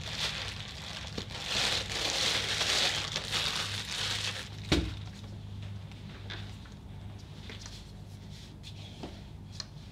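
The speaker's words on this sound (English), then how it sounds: "but I'm going to knead one more time." Fondant being kneaded by hand on a clean, dry work surface: soft, steady rustling and squishing pressed out close by, with one firmer thump midway, and no voices.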